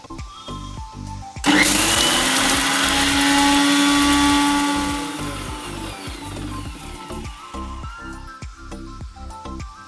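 A mixer grinder powders roasted spices for tomato gojju, kicking in with a loud whirring roar that holds for about three seconds and then winds down, with background music around it.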